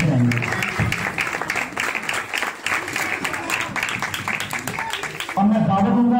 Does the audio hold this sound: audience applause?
yes